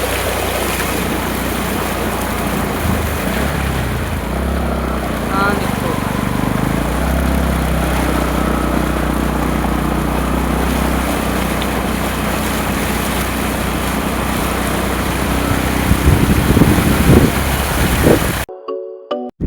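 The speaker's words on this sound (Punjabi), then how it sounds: "ਹੁਣ ਅਸੀਂ ਨਗਾਉਣ ਲੱਗੇ ਮੋਟਰਸਾਈਕਲ ਇੰਨੇ ਪਾਣੀ ਵਿੱਚੋਂ" A motorcycle pushes through deep floodwater, its engine a loud, continuous low drone mixed with sloshing water, and a brief voice near the end before it cuts off.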